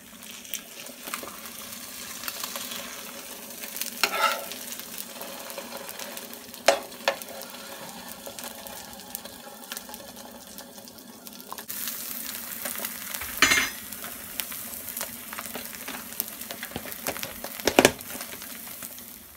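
Egg white omelette with spinach and cherry tomatoes sizzles steadily in a covered pan, with occasional stirring scrapes and crackles over a continuous frying hiss, no talking.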